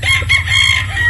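A Sweater Boston bloodline gamefowl rooster crows once, near and fairly loud, with a steady low rumble running beneath the call.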